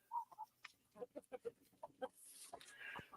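Small hens kept in a chicken tractor cluck in short, separate, fairly close notes, a rhythmic run of soft clucks that ends in a louder, rising squawk.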